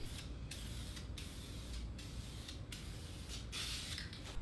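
Spray paint hisses onto car control arms in short repeated bursts, fairly faint, with brief gaps between passes.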